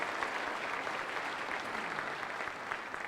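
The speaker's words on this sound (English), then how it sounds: "Please join me in giving them a round of applause for the great work that they do on the board." An audience applauds steadily, a dense wash of clapping hands that holds at an even level throughout.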